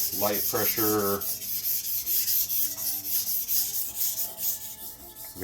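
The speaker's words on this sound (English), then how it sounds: "This is for a maintenance sharpening, and I'm not using much pressure here either." Misono Swedish steel gyuto knife sharpened on a stone with light pressure during maintenance sharpening, a soft steady rubbing scrape in quick back-and-forth strokes, close and continuous without speech.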